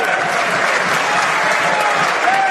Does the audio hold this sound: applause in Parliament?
yes